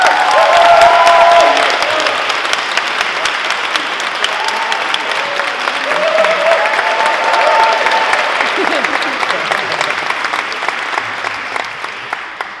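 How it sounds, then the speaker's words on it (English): Loud, sustained applause from a large conference crowd for an organising committee, with scattered cheers and whoops on top, the dense clapping holding steady for over ten seconds before thinning out. "So give them a round of applause,"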